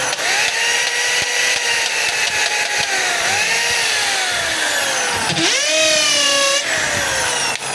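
A DeWalt DWD024 1/2-inch hammer drill runs in hammer mode, a loud, steady, rattling whine that sits close and continuous, with the motor pitch dipping and recovering briefly near the end.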